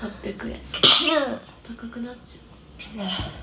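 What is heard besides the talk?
sneeze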